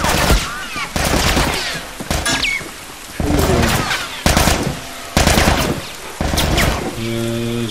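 Gunfire in a video game aimed at the player, heard as loud bursts of rapid shots in clustered volleys with brief gaps, close and dominant.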